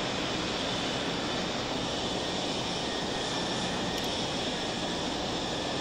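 Steady, broad jet engine roar from a Mirage F1 taxiing toward the runway in the DCS flight simulator, a continuous even rumble with a hissy whine and no voices.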